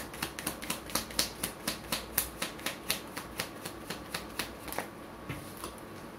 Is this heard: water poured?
no